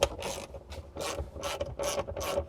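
A ratchet wrench with a 14mm socket loosening a hex bolt on a Toyota 4Runner's third-row seat area, giving bursts of quick, close, rhythmic clicking with short pauses between strokes and no talk.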